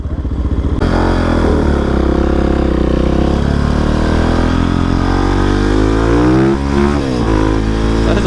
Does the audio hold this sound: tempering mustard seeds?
no